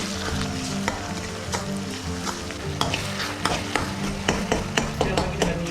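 Tomatoes, onions and garlic frying for a spicy kuzhambu with broad beans and peanuts, with a loud continuous sizzle and frequent clanking spatula strokes against the pan, close, no talking.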